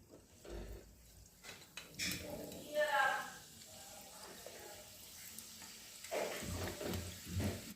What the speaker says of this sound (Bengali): আস্তে করে ভেজে নিচ্ছি